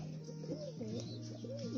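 A pigeon coos nearby in a few rising-and-falling throaty phrases over a steady low hum.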